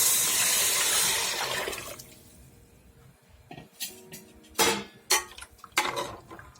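Water poured into a pot while cooking prawn biryani rice, a broad steady rush for about two seconds, followed by scattered clinks and knocks of metal dishes and utensils; no talking.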